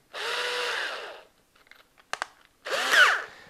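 A power drill with a Phillips head bit drives wood screws in two loud, close whirring runs, with brief clicks and taps between them.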